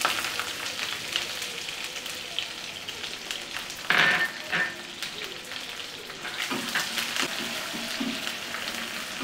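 Chopped onion dropped into hot oil for a Bengali egg and potato curry, giving a steady crackling fry that bursts louder with stirring and clattering around the middle, close up with no talking.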